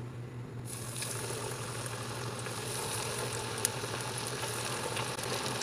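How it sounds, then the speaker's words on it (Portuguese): Sardines fry in hot oil in a frying pan, giving a steady, close crackling sizzle with a low hum underneath and an occasional sharp pop. "Vou começar a fritar as sardinhas."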